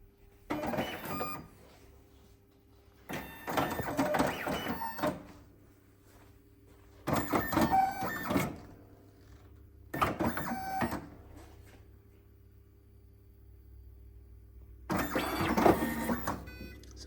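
A Powis Fastback 20 thermal strip binding machine runs through its binding cycle in five separate mechanical whirring bursts, each a second or two long, with quiet pauses between them.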